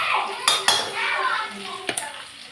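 Fresh ginger is cut with kitchen scissors in a home kitchen: a few sharp metallic snips and clicks, with a soft clatter of utensils between them, close and distinct against quiet background.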